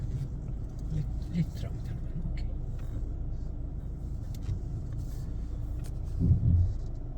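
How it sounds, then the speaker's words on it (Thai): A car pulling in and parking at a hotel on a first night in Finland, a steady low engine rumble throughout with a brief louder thump near the end, while someone talks over it. "รอคุณลุงจอดรถก่อน"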